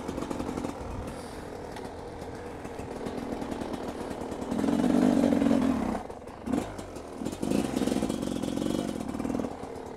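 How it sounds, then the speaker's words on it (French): A 2011 Husqvarna 300WR road-legal enduro motorcycle engine runs steadily nearby, with a rough two-stroke-like drone that swells louder around the middle, dips briefly, then resumes. "Alors c'est une moto enduro homologuée."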